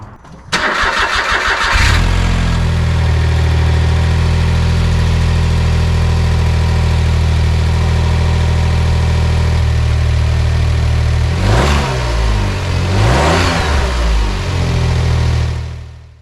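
A 2008 Smart Fortwo cranks briefly, catches and settles into a loud, steady idle, with two short blips of the throttle near the end before it keeps running.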